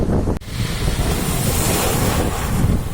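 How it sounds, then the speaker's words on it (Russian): Sea surf breaking on a Sochi beach as a storm builds, with a loud, continuous wash of waves and wind gusting hard against the microphone, close and steady throughout. "Что-то разыгрывается шторм."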